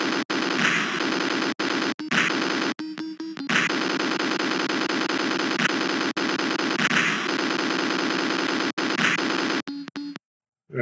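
Rapid, dense electronic gunfire from the classic Macintosh arcade game Crab Attack, a continuous loud barrage of shots with brief gaps and bursts, ending in a short silence.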